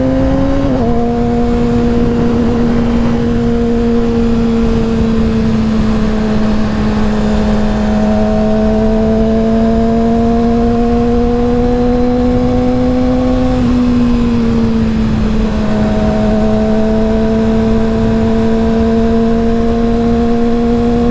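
A Yamaha R6 sport bike engine runs loud and close at a sustained high-pitched drone, with the pitch dipping and rising slightly through steady throttle changes, and no talking.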